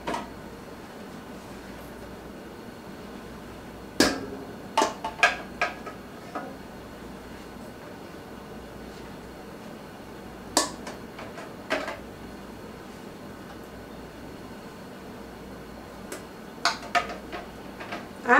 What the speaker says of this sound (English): I'm just going to put my jars down in there.